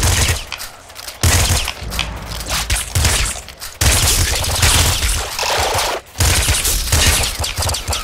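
Rapid, loud gunfire and bullet sounds from the video game Nuclear Throne, dense bursts of shots in quick succession with brief pauses, filling the whole stretch.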